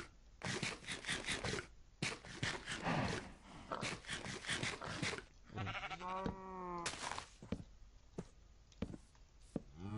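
Sheep bleating in a video game, a short wavering bleat rising out of clicks, taps and quick chopping effects, with scattered sharp game sounds before and after.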